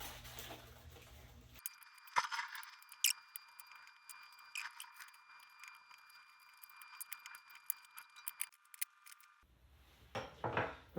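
Scissors snip through chili peppers in a rapid run of crisp, close cuts with small pauses between bursts, a quiet rustle of the peppers underneath, and no talking.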